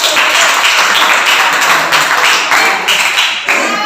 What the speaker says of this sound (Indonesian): Hafiznya tepuk tangan untuk Hafiz ya